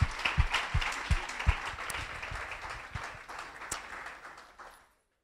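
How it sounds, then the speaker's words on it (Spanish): Church congregation applauding during a Spanish-language service, a dense wash of many hands clapping steadily for about five seconds, with a few louder claps up front, before fading out abruptly. "Dale un aplauso, claro que sí, aplaude"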